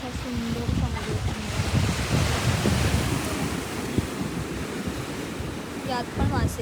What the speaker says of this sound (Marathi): असा सुंदर समुद्र.